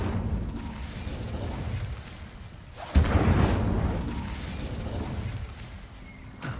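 The Incendio fire spell is cast in Hogwarts Legacy, a sudden whooshing burst that rises out of a steady rumbling game background and then fades into a sustained fiery roar.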